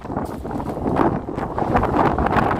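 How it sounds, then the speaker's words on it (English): Strong gusty wind buffets the microphone, making a loud, continuous roaring rumble with no other clear sounds. "it is extremely windy"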